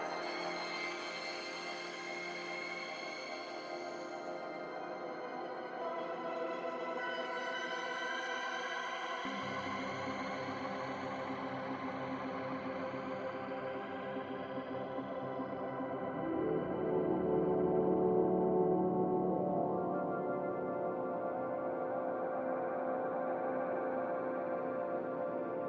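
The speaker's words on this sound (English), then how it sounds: "I got most of the echoes and the delay here set up that's actually causing most of the actual sound" A synthesizer in Bitwig plays a sustained harmonic drone shaped by heavy echo and delay, with layered tones shifting and a deeper layer entering partway, steady and fairly quiet, with no talking.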